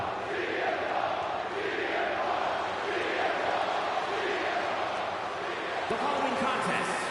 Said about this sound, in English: The crowd roars in anticipation for this rematch.